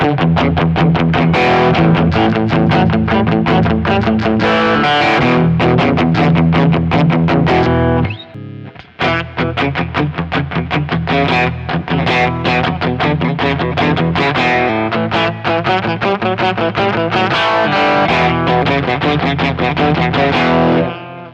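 Heavily distorted electric guitar played through Kemper amp tones with light room reverb, a loud, dense stream of chugging chords and riffs that pauses briefly around the middle before continuing, no talking.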